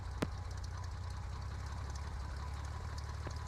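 A Cessna 172 engine idles steadily on an airport ramp at Havre-Saint-Pierre, a constant low drone with a brief sharp click near the start and no talking.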